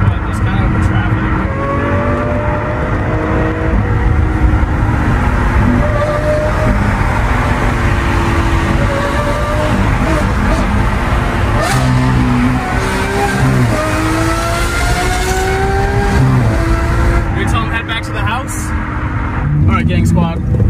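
A rare Lamborghini's engine revs hard to around 8,000 rpm, a loud, sustained roar with rising and falling pitch sweeps and tire noise, while people talk over it throughout.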